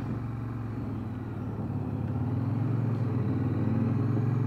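Loud Harley motorcycle engine rumbling nearby on the highway, a deep steady drone that swells slightly, heard over wind and road noise.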